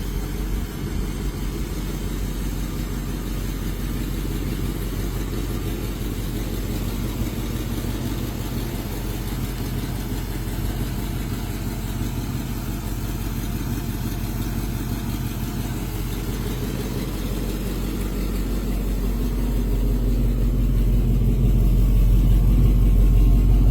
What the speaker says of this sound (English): In every rumble of the engine